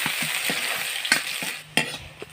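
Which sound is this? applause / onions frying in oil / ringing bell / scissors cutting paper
onions frying in oil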